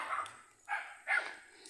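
Dog barking at a farm lot, three separate barks at uneven intervals, fairly close and clear over a quiet background.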